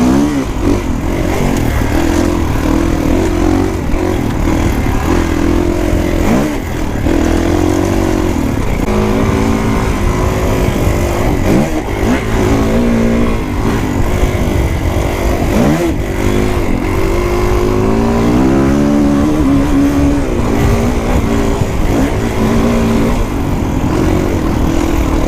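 A 2021 Kawasaki KX450X dirt bike engine runs at about three-quarter throttle on black diamond trails, droning loud and continuous with rising and falling revs throughout.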